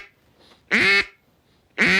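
Two loud, nasal quacks from a duck call blown to imitate a duck, each lasting about a third of a second, separated by a pause with a faint breathy sound before the first.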